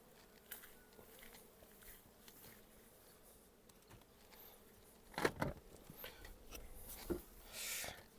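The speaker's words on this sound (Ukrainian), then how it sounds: "Бджоли не йдуть в магазин" Faint buzzing of honeybees close by at the hive, with individual insects droning past louder now and then, plus light tapping and handling noises.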